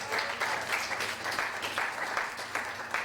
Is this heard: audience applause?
yes